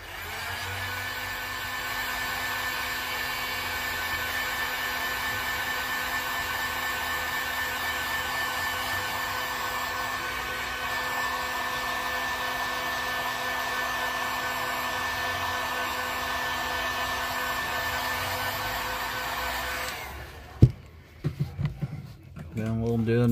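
A heat gun or hair dryer blows with a steady, loud whirring hum for about twenty seconds while heat-setting paint on a shad-pattern fishing lure, then cuts off, followed by a few brief handling knocks.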